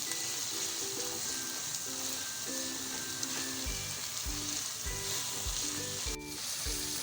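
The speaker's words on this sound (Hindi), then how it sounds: "अच्छे से मिक्स कर लेंगे कीमे को प्याज में।" Beef mince and onions fry with a steady loud sizzle while a spatula scrapes and stirs the pan in repeated strokes, with faint background music tones.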